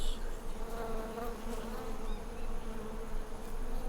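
Honey bees buzzing steadily around a beehive, a dense continuous hum from many insects close by, with no talk.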